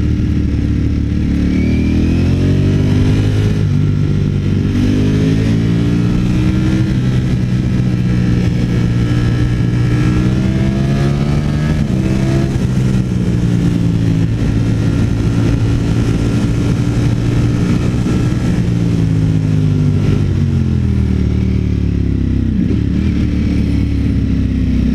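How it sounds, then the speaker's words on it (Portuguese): A Ducati Streetfighter V4S motorcycle with a V4 engine being ridden, its loud, close growl climbing and dropping in pitch as the rider accelerates and eases off, steady and continuous with no speech. "Esse motor aqui tem uma brutalidade absurda."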